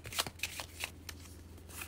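Tarot cards are shuffled by hand in a few quick, crisp riffling bursts, close and clear with no talking.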